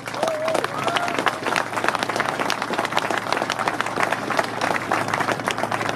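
Applause from a crowd of about 300 people at an outdoor peace rally against war policy in Berlin, steady dense clapping sustained for several seconds with a brief whistle-like tone near the start.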